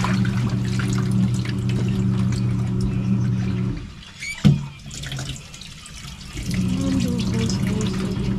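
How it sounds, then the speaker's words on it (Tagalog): Water poured and running from a tap into a basin, a steady splashing flow that stops briefly midway with a small knock, then resumes. "Buhos tubig pa lang naman niya."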